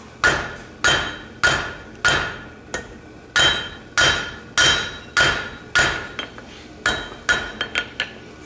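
A blacksmith strikes hot metal with the flat face of a hammer, giving a dozen or so bright, ringing blows at an even pace that quicken into lighter taps near the end, loud and close with no voices.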